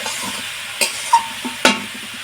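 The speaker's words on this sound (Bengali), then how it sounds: "ভেজে রাখা আলুটা দিয়ে একটু এইভাবে নেড়ে চেড়ে নেব।" Fried potatoes stirred into a Bengali cabbage ghonto in a pan, a soft sizzle with a few scraping stirs and spoon knocks against the pan, close and fairly quiet.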